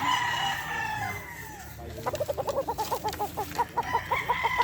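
Boston gamefowl roosters at a game farm crow in long drawn-out calls near the start, then break into a rapid run of rhythmic clucks, close and loud, with no talking.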